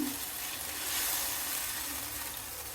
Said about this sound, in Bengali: এর জন্য আমি কিছু মটরশুঁটি অ্যাড করে নিলাম